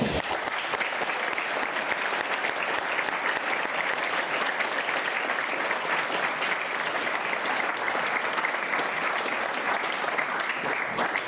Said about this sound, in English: Will you all join me in a round of applause to welcome Dominic to the chamber?